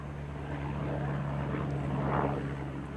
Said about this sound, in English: the helicopters are still flying around